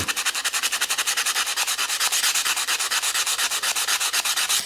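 Abrasive rubbing on a carbon steel Opinel knife blade as rust is sanded off, a steady rhythmic back-and-forth scratching with about four strokes per second, close and continuous with no talk.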